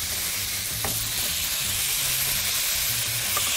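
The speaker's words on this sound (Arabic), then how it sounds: "شايفة بلش يتكرمل معاي السكر البني" Brown sugar caramelizes with pineapple in a frying pan, giving a close, steady sizzle and crackle that runs throughout with no speech.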